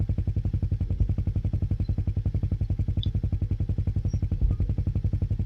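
A motorcycle ridden through Mumbai in the morning gives a close, steady, rapid thumping engine beat with an even rhythm throughout, with no talking.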